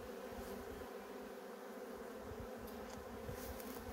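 A steady, soft hum of many honeybees at an open hive with varroa mites, continuous and even throughout with no talking.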